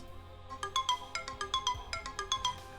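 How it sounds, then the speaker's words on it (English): A phone alarm ringtone plays a bright, repeating melodic pattern of short chiming notes in quick rhythmic bursts, close and clear, with no talking over it. "that's my alarm I set to remind me to return the stylus"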